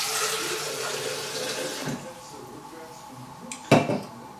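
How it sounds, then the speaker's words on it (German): Water pours and splashes into a pot of potato soup with sausages, a steady running stream that fades, then a sharp clank of metal cookware. "Und ich tue jetzt einfach noch Wasser rein."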